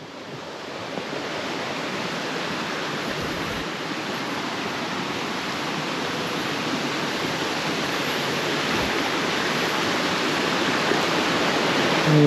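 A small rocky waterfall cascade at Hareshaw Linn in Northumberland pours in a steady, dense rush of water. The roar stays close and even, growing slightly louder throughout, with no voices.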